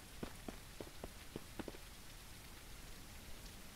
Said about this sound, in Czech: Prší, prší.